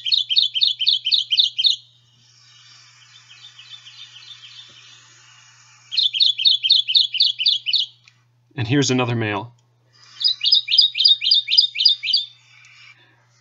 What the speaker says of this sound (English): I personally think that the Kentucky warbler sounds in many ways like a cardinal or a Carolina wren